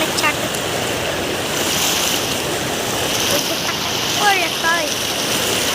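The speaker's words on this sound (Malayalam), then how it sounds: "വെള്ളച്ചാട്ടം" A waterfall roars steadily nearby, a dense, continuous rush of falling water, with faint voices and a few brief whistling calls over it.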